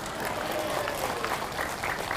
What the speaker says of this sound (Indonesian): Jangan asal tepuk tangan aja.